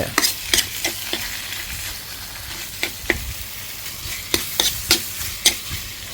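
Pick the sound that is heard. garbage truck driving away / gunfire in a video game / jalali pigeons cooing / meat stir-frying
meat stir-frying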